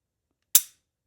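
A Superior aftermarket trigger on a Glock breaks with a single crisp, sharp click in near silence, quickly decaying.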